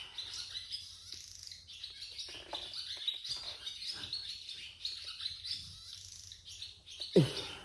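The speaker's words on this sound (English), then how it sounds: "Noisy bird." A bird chirps and tweets repeatedly in bright, high calls that carry on through the whole stretch, with a louder squawk near the end, heard alone at a moderate distance.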